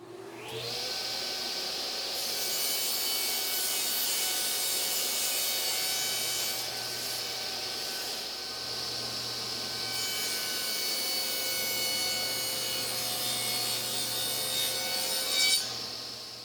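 A table saw with a Norm Abram–style crosscut sled slices 3/4-inch plywood cabinet pieces to length, the motor whining steadily while the blade bites through in several passes, loud and close with no talk.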